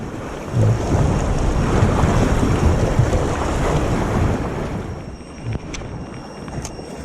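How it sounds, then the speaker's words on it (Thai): Sea waves wash against a small fishing boat offshore near dusk, a constant rushing surge heavily mixed with wind buffeting the microphone, loud and close. "อยู่ทะเลก็มีคลื่นมาอีกแล้ว"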